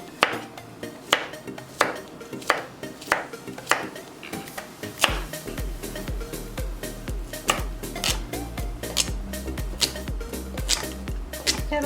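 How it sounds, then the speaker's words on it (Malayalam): A knife chops vegetables into small pieces on a cutting board, giving sharp, evenly spaced knocks at first, then quicker, busier chopping over a low steady hum. "ഇതെല്ലാം ചെറിയ പീസായിട്ട് നമുക്ക് കട്ട് ചെയ്യാം."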